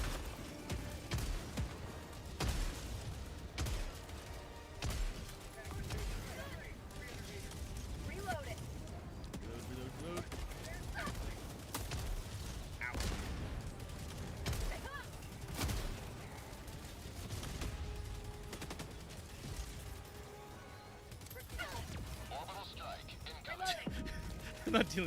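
Bursts of gunfire hit Devastator enemies in a shooter video game, with rapid dense shots and impacts running throughout while someone talks over the action.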